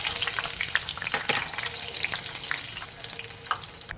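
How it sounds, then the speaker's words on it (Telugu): Cashews and crushed garlic fry in hot oil with a constant close crackle, small pops and spits breaking through now and then, and no voices. "జీడిపప్పుని కూడా ఫ్రై చేసుకుందామండి"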